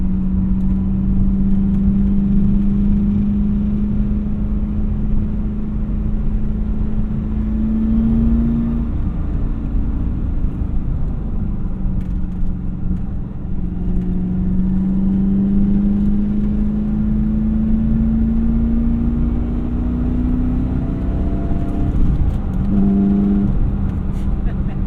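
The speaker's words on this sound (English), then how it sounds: "whoosh, hear that engine rev out." Manual C4 Corvette engine droning under load from inside the car, the pitch climbing slowly and falling back through downshifts, steady and loud, with someone talking over it.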